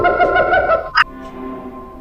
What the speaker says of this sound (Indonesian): Yang pertama, burung gagak.